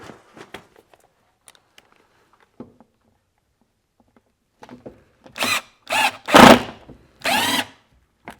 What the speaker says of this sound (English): Now I'll start the 2 lag screws.